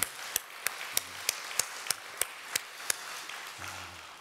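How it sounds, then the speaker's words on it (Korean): Church congregation at a year-end special dawn prayer service clapping in slow, even unison, about a dozen crisp claps at a steady rhythm, moderately close, with faint background voices underneath. "우리 박수로 올려드립니다"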